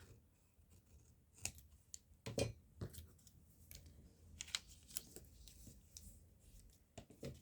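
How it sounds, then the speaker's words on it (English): Scissors snip through paper in a series of quiet, sharp cuts at uneven intervals, with soft paper rustles in between, trimming an overhanging corner on a craft project. "And snip off this corner that overhangs."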